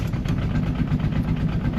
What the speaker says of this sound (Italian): accendiamo il motore e parte il cavallino qua